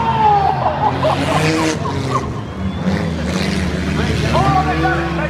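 Demolition derby cars at Speedway City in South Australia rev and grind against each other, with engine roars, tire noise and a loud crowd, and a commentator talking over it.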